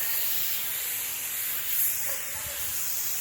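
Close, unbroken hiss of an HVLP paint gun applying Helmsman Spar Urethane, holding level for a few seconds without any voices.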